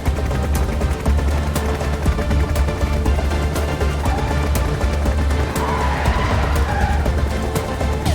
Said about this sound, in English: They lost control of the van. The van's brakes also stopped working, and the cliff was right ahead.